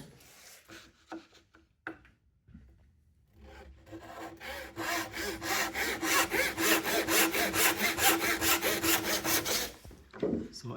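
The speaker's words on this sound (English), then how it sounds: "I'm going to put a bit of waste underneath so I can actually saw into the waste." A hand saw cuts through wood into a scrap waste piece placed underneath during a construction studies practical exam, with steady rhythmic back-and-forth strokes building to loud, close, regular rasping after a few quieter scrapes.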